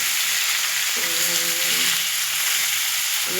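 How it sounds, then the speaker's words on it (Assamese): Fish frying in turmeric-spiced oil in a wok, a loud continuous hissing sizzle with brief low tonal hums underneath, close and steady. "এইটো কেৰাহী অলৰেডি পাতি দিছোঁ মাছ ফ্ৰাই কৰাৰ কাৰণে আৰু আঞ্জা বনোৱাৰ কাৰণে"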